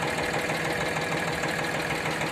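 A Powertrac diesel 7-model 45 hp tractor engine idles steadily, a constant low rumble with an even knocking pulse, unbroken and close.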